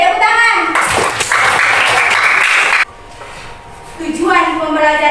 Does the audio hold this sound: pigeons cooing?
no